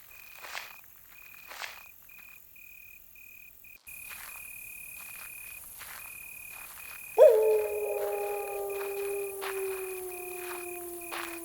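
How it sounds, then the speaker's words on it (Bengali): Crickets chirp at night along a village road bordered by dense jungle, a steady high trill running throughout with faint rustles and steps, joined midway by a louder, lower droning tone. "এখানে এসে ঝিঝি পোকার ডাকটা আরও বেশি তীব্র মনে হলো।"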